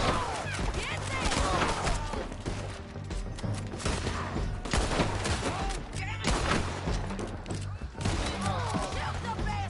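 Repeated gunshots in a Red Dead Redemption 2 story-mode firefight, a dense, busy stream of cracks and thuds mixed with shouting voices throughout.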